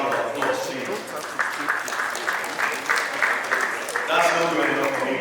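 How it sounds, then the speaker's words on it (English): A graduation audience at the class of 2025 ceremony applauds in a sustained wash of clapping that swells near the end, with a voice speaking over it. "Can you also give yourselves a round of applause, please?"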